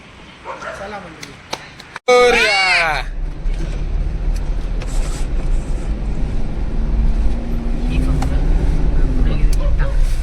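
A car pulls away on a road trip toward the Konkan countryside, its engine a steady, loud, close rumble that runs continuously after an abrupt start, with a tonal hum rising and falling beneath it and people talking in the cabin.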